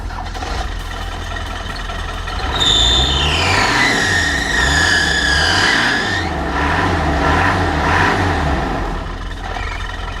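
An engine runs steadily with a low, pulsing drone, while a whining tone rises and falls in pitch over several seconds before settling back to a quieter idle.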